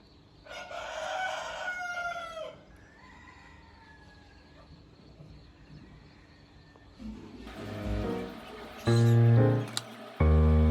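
Rooster crowing loudly on a morning in a mountain village, a long close crow at the start, then quieter distant calls, with louder mixed noises and talk toward the end.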